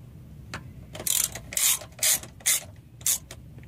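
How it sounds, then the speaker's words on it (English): Machine screws are snugged up on a 2002 Chevrolet Avalanche ignition case, giving a series of short scraping, ratcheting tool clicks in irregular bursts, close and fairly quiet, with no talking. "Now that you've got all of your machine screws started,"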